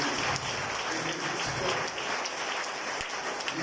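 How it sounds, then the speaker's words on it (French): Church congregation applauding during a worship service, a steady dense wash of many hands clapping at moderate volume, continuous and unbroken throughout. "Demandez-nous pour un beau applaudissement pour mon Dieu."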